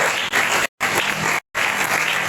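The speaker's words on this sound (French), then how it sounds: "Est-ce que vous pouvez applaudir pour le Seigneur?" A church congregation applauds during a French-language worship service, a dense, steady wash of many hands clapping at close range, cut by two brief dropouts to silence.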